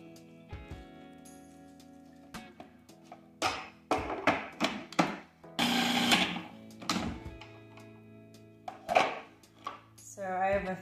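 A machine grinding cabbage for homemade sauerkraut, with intermittent bursts of whirring and chopping noise between quieter stretches and an underlying mechanical hum, close by and fairly loud.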